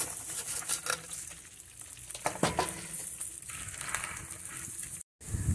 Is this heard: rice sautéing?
yes